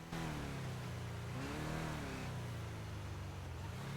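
A big truck engine in a role-play game revs hard from a standstill, its pitch climbing and dipping as the throttle swings, then settling into a lower growl, close and loud.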